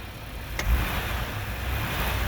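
Chevrolet Astro van engine revving as the gas pedal is pressed, a steady mid-pitched engine drone that swells slightly, heard close with no talking.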